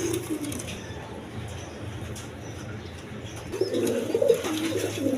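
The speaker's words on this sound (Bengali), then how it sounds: "একদম রানিং পেয়ার, কোয়ালিটি সম্পন্ন কবুতর" Pigeon cooing from a breeding pair of quality pigeons, one grizzle-coloured male and one black female, in a loft among other pigeons. Low, repeated coos rise louder near the end over a steady background murmur.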